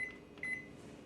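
Panasonic microwave oven control panel being set to power level 6 for melting chocolate: a steady electronic beep tone sounds twice, a short one then a longer one, over a low background hum, with no talking.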